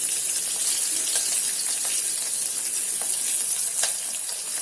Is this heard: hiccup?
no